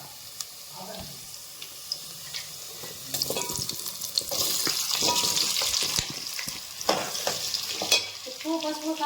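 Raw banana pieces frying in a pan for a spiced curry, with a soft sizzle that swells into a steady, loud hiss partway through, broken by scraping stirs and light clinks.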